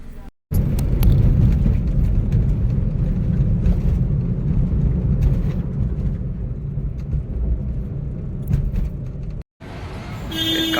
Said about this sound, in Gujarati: બાકી ગાડી આપણે સ્ટાર્ટ કરી નાખી છે